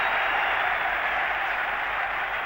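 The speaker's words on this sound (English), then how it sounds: "The crowd are going mad" A football crowd roars in a broad, steady wash of cheering and applause after a Manchester United goal against Manchester City, loud and sustained throughout with no break.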